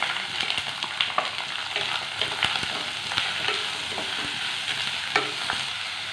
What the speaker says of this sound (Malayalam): ഇതിലേക്ക് ദാ 2 സവാള ചെറുതായിട്ട് കട്ട് ചെയ്ത് വെച്ചതാണ് ഇതുകൂടി ചേർത്ത് കൊടുക്കാം